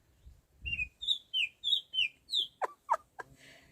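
A bird chirps a series of short, bright whistled notes in quick succession, followed by a few sharper clucks; fairly close, with no talking, in a Jamaican backyard garden.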